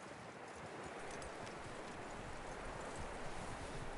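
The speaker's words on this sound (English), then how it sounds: "That looks like a decent horse. You should keep him. Get that horse hitched." Horse hooves clip-clop faintly in Red Dead Redemption 2, a soft irregular patter of hoofbeats under a steady wash of wind and rustling ambience, quiet and distant throughout.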